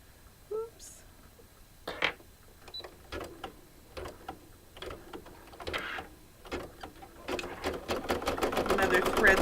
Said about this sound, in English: this next color is going to stitch the veins of the leaf